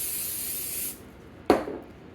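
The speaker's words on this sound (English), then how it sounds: "I'm gonna spray it over here." A steady hiss of cooking spray coats a sheet of cling wrap for an apple pie crust, lasting about a second, then a single soft tap follows.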